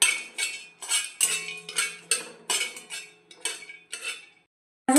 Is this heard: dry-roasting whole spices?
yes